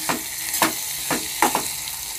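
A spoon stirs chili and coriander powder into a bottle gourd curry cooking in a pan, giving several distinct scraping, sizzling strokes at an uneven rhythm, close up with no talk.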